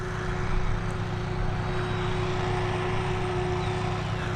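A Boeing 767 bound for Stansted passes near Dublin Airport, its jet engines making a steady, loud, broadband roar with a low hum that holds throughout, no voices over it.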